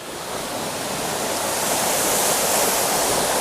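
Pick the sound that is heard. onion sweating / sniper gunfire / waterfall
waterfall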